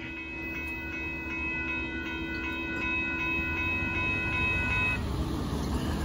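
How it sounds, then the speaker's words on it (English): A late southbound Amtrak Texas Eagle train 21 led by locomotive 5763 passes the Dittmar Road grade crossing in Austin, Texas, a loud steady rumble of rolling cars with the crossing bell dinging repeatedly until it stops. "there goes Amtrak Texas Eagle train 21 leading 5763"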